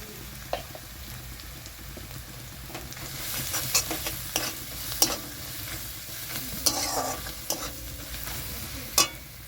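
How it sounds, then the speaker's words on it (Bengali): Chili and turmeric powder are stirred into fried onion and garlic in oil for a mustard pabda fish curry: brisk spatula scrapes and taps cut through a constant close sizzle. "ভালো করে নাড়াচাড়া করে পেঁয়াজের সঙ্গে হলুদ লঙ্কা"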